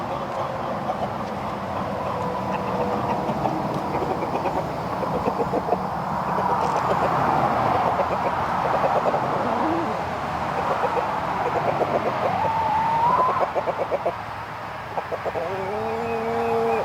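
Chickens in a coop, hens and roosters clucking and calling over a steady background rumble, with brief rising squawks toward the end.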